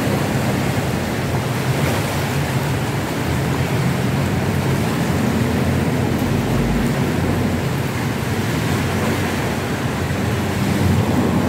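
Floodwater in Dubai rushing and churning with strong wind buffeting the microphone, a dense continuous roar that stays loud and steady throughout with no voices.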